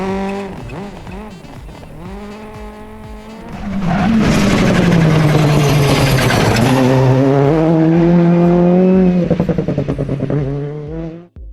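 A rally car engine in the EA Sports WRC racing game revs and climbs through gears, loud and close with shifting pitch, rising to a sustained high-rev roar before cutting off abruptly.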